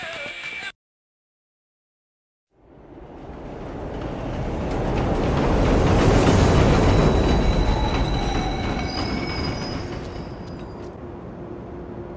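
A train rolls through Pelham Train Yard in The Warriors video game, a rumbling roar that swells from silence to a loud peak and slowly fades, with faint wheel squeals in the mix.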